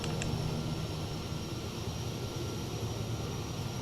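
A Kodiak 100 single-engine propeller plane in Microsoft Flight Simulator 2020 starting to taxi, its steady low engine drone and propeller hum running continuously and evenly, with a brief faint click near the start.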